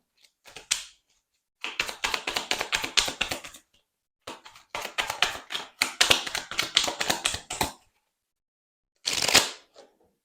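Tarot cards are shuffled in quick riffling bursts, several rapid papery flutters separated by silent pauses, then one short final swish as a card is drawn, close and crisp.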